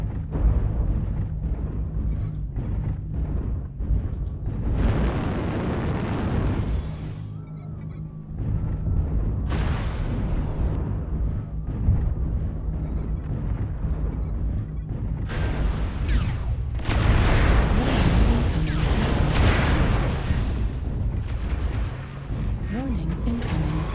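Missile impacts and explosions boom repeatedly in the Vulcan mech combat video game, heavy rumbling bursts with crackling debris stacking over one another, loud and dense, under synthetic warning announcements and a player's voice.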